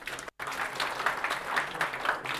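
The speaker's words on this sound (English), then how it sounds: "Give a round of applause." Audience applause at a Google I/O Extended tech meetup in Kuala Lumpur, a steady wash of many hands clapping throughout, broken by one brief dropout near the start.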